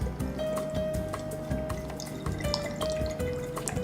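Rice wine vinegar pours into a cooking pot, giving a soft trickle with scattered drips and splashes at low volume, heard alone in a home kitchen.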